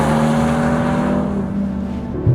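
A 2024 Mercedes-AMG GLC 43 Coupe with all-wheel drive accelerates hard out of a corner, its engine droning loud and close from inside the cabin, with a steady low hum and a slight rise near the end.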